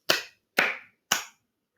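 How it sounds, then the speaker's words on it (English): Three sharp hand claps ring out alone at an even, unhurried pace, each crisp and distinct, with a short decay and silence between them. "I want you to clap 3 times"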